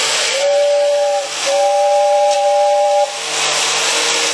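An Overland Express tin toy train runs with a steady whirring whine and airy hiss, its tone holding, breaking briefly, then resuming before fading into hiss.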